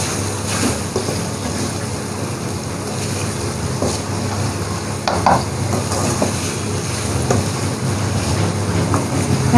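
Potatoes with added capsicum (bell pepper) being stirred as they fry in a pan, a loud dense hiss with scattered scraping strokes and clatter, continuous and close, no speech.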